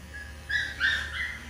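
Schnauzer puppies whimpering during grooming with a dryer running, thin high-pitched whines rising in a few short bursts over a steady low hum.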